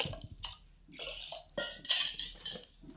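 Water is poured over black gram lentils in a cooking pot, with short splashing gushes mixed with clanks of metal cookware, close and uneven in a home kitchen.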